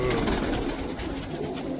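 Pigeons in a loft coo continuously, close and loud, with overlapping soft throaty calls in a steady murmuring chorus.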